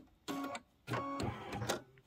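A sewing machine, apparently computerized, sews the diagonal of a quilt block in three short motorized bursts of whirring stitches, close and loud, with quiet pauses between.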